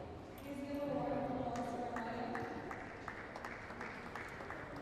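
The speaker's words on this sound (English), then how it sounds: "the crowd going wild after that one" A squash crowd at the CIB Black Ball Women's Open breaks into loud applause after the match, rising quickly and then holding steady as a sustained wash of clapping.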